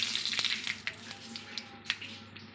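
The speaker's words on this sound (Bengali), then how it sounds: "তেলের মধ্যে দিচ্ছি দুটো শুকনো লঙ্কা আর একটু সরষে।" Dried red chillies and mustard seeds crackle and sizzle in hot tempering oil in a small tadka pan, a steady frying hiss broken by a few sharp pops, fairly faint and close.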